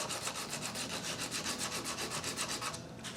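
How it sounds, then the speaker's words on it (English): A wooden piece for a model house is rubbed back and forth on a sanding block, giving a close, rhythmic rasping stroke repeated about a dozen times over a few seconds, alone with no voices. "put it on my sanding block"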